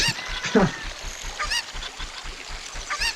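A chicken in the video game Zelda: Ocarina of Time gives several short, nasal honking clucks spaced across the moment, loud and close, with faint background game sounds.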